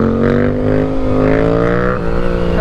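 A motorcycle engine revs loud and close as the throttle is blipped, its rising, wavering pitch sustained with a slight dip near the end.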